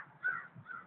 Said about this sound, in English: Them crows are so noisy and aggravating